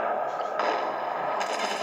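T2 light tank in World of Tanks firing its gun, a rapid chattering burst of shots with someone speaking French over the action.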